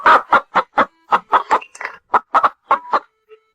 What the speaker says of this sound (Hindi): मुर्गी कई बार बोल चुकी